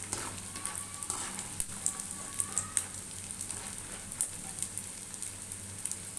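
Macaroni frying in hot oil for a crispy snack: a dense, steady sizzle with scattered sharp pops and crackles, close and continuous, with no one talking.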